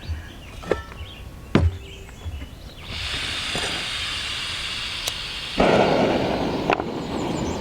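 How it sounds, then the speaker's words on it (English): Camp stove lit outdoors for frying fish in shortening: a few sharp clicks, then a steady broad roaring hiss begins and swells louder as the flame takes, continuing to the end. "let's get this stove fired up"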